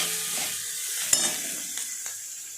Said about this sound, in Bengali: পেঁয়াজটা এখন ভেজে নেব।